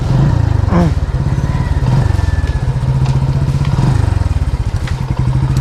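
A loud motorcycle engine idling close by, with a rapid, throbbing putter and a few clattering knocks over it.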